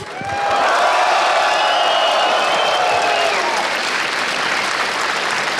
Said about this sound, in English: Another applause for Alexej and Gambit